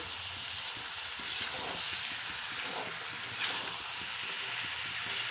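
Peas sizzling with spices in hot oil in a pan while sautéing ghugni, a steady close crackling fry with a few soft stirring scrapes, no voices.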